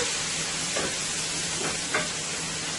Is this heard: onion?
yes